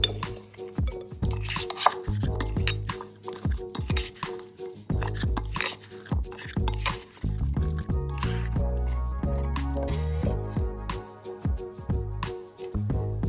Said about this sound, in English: Make sure to combine the sauce with the wings and leave no empty spots.